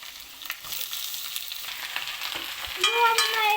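Radish and potato pieces dropped into hot oil with onions, a steady sizzle and crackle of frying with some stirring scrapes, growing louder near the end.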